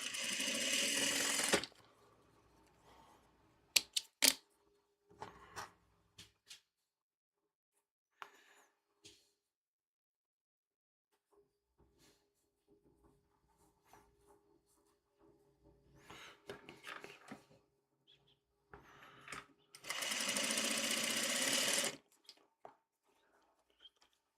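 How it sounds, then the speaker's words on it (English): A sewing machine stitches a quilt four-patch in two loud, steady bursts, one short at the start and one near the end, with quiet handling clicks and fabric rustles in between. "So I'll sew this 4-patch."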